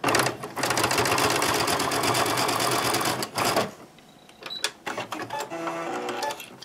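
A sewing machine runs a straight stitch on a fabric vaccine-card bag, a fast steady mechanical whir for several seconds, then stops, followed by short clicks and handling of the fabric.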